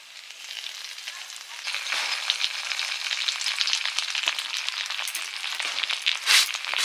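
Food sizzles steadily in hot mustard oil, a loud close crackling hiss that builds after the first seconds and stays dense throughout, with no voices.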